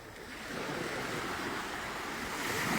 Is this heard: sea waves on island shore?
yes